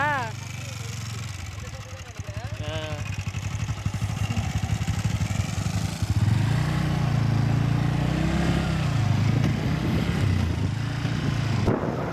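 A motorcycle engine hums and rises in pitch as the bike rides along, with a voice talking over the engine noise throughout.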